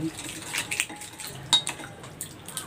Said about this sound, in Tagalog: Haluin ko muna hanggang sa matunaw yung asin at yung asukal